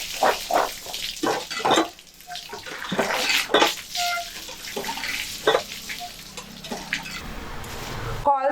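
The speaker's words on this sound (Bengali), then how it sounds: "এবার শাক, পেঁপে আর আলু সব একসাথে কল থেকে পরিষ্কার করে ধুয়ে নিয়ে আসছি" Tap water splashes in irregular bursts as pumpkin greens, papaya and diced potato are washed together under a running kitchen tap, with nearby clatter and dripping.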